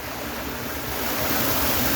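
Steady rushing river current, a continuous broadband wash of flowing water heard up close, with no voices.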